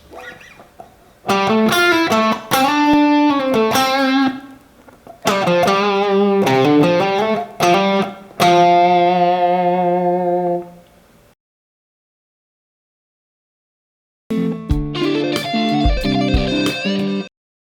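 Electric guitar notes played slowly with a clean-ish tone, in three phrases with ringing sustained notes, a pause, then a shorter burst.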